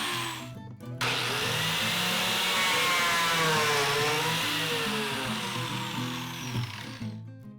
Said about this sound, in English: I drill holes through the inside of the cabinet, then countersink the holes from the outside